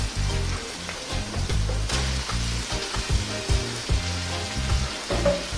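Seasoned meat tumbles into a pan of softened frying onions, giving a loud, steady sizzle broken by repeated low thumps and scrapes of stirring, with no talk.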